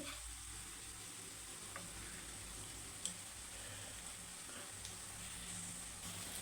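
Eggs fry in a pan with oil, giving a soft, steady sizzle and crackle that runs throughout, plus a few faint clicks from stirring and no one talking.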